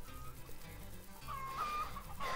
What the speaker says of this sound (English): Oh, chickens. I have 10 chickens.